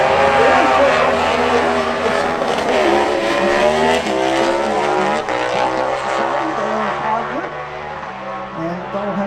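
A Yamaha R7 tuned to about 160 hp at a race-meeting run, its engine loud and close, rising through gears in repeated climbing sweeps over a steady roar, with crowd or track noise underneath.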